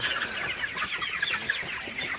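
Broiler chickens about 27 days old on a poultry farm cluck and chatter in a busy overlapping flock, a continuous moderate chorus with no talking.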